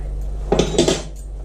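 Cold cod croquette mixture being mixed by hand in a bowl, a couple of soft close clatters and knocks against the bowl over a low steady hum.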